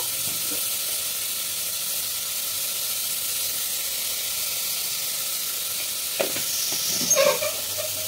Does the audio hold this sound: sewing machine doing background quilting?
no